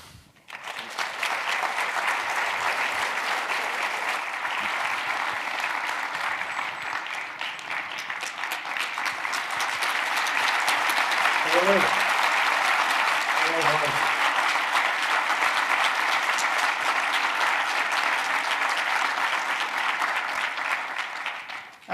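Sustained audience applause at a Harvard event fills the room, steady and dense throughout, with a brief pause in the middle before the clapping continues.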